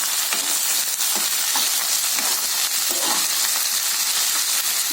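Long beans seasoned with salt and turmeric being stirred and fried in a pan, a steady close sizzle with scraping and clinking stirs scattered throughout, and no voices.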